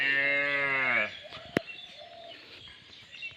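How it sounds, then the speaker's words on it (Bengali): A cow lets out one long, loud, close moo as cattle are led out in the morning, followed by a sharp knock and quieter rustling, with faint birdsong in the background. "গরু সকালবেলা গরু নামাইতেছে।"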